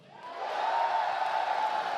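A large live audience roars and cheers at the BlizzCon 2017 opening ceremony, a broad sustained crowd swell that rises quickly and holds loud with scattered whoops.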